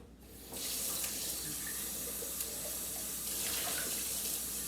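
Kitchen tap running while something is rinsed out, a steady close splashing stream that starts after a brief moment and continues with slight changes as the flow hits the item.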